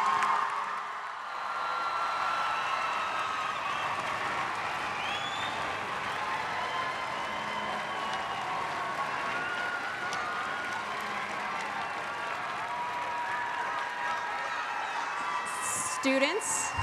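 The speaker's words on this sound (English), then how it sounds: "One more big round of applause for our graduating class tonight." Applause rolls through a crowd at a high school graduation ceremony, a long sustained wash of clapping with scattered cheers and whoops, steady and somewhat distant, with murmuring voices mixed in.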